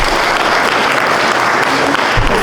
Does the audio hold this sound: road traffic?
no